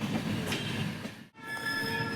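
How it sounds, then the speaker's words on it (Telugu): A passenger train near Bhopal Junction rolls steadily along the rails at speed with a continuous rumbling roar and faint metallic squeal, dipping briefly near the middle before resuming. "రైట్ టైమింగ్లో వస్తుంది ట్రైన్. మంచి స్పీడ్గా వచ్చేస్తుంది."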